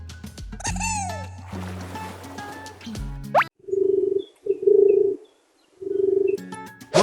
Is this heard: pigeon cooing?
yes